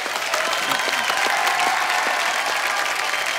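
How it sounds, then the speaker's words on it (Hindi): A live studio audience at The Kapil Sharma Show comedy talk show breaks into loud, sustained applause, a thick continuous patter of many hands that holds at full strength throughout. "एक बार जोरदार तालियां।"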